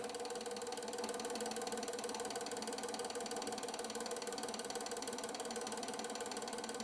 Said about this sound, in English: So let's give it a spin. And the motor is running.